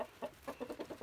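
A rooster clucks while being fed, a quick series of short, soft, evenly spaced clucks close by and fairly quiet.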